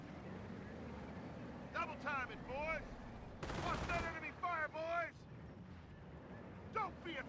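A burst of MG42 machine-gun fire in the World War II strategy game Company of Heroes, a dense rattling volley about half a second long amid distant battle noise, with someone talking over it.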